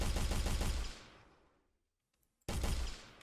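Rapid automatic gunfire rattles in an Unreal Engine 4 game demo: a loud burst of fast repeated shots fades out with a decaying tail, followed by silence, then another sudden burst starts, with no voices.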